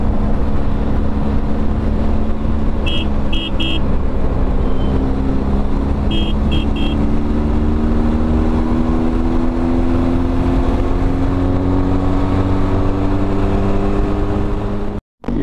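A Benelli TRK motorcycle cruises at steady highway speed, its engine drone rising slowly in pitch under heavy wind rush, with a few short electronic beeps and an abrupt cut near the end.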